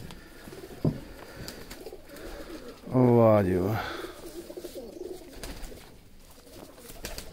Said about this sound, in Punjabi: ਲੋ ਜੀ, ਇਹ ਫਿਰੋਜ਼ਪੁਰੀ ਕਬੂਤਰ ਜੇ, ਇਹ ਕਬੂਤਰ ਜੇ।